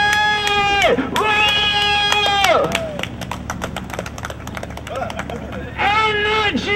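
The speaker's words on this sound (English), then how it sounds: "everyone, just clap and cheer, right?" A street show crowd in Amsterdam claps and cheers around a performer, a steady patter of hand claps under loud whoops and cheering voices, with one shouted exclamation.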